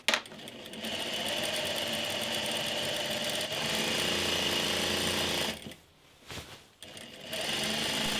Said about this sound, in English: I'm going to sew 2 parallel lines of gathering stitches along the bottom edge of my double circle skirt